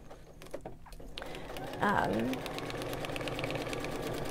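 A sewing machine stitches quilt block pieces straight over the pins, a steady close whirr that starts partway in and runs on, under a voice speaking throughout.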